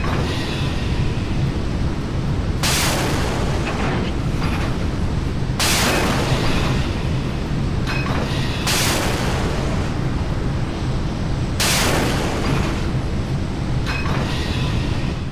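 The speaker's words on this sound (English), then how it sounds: "Okay, so definitely only 4 missiles fired, or 16 missiles fired total." Naval missiles launching in the Sea Power video game during a battle between Kidd and Sovremenny destroyers, four sharp roaring blasts spaced a few seconds apart over a constant loud rumbling background.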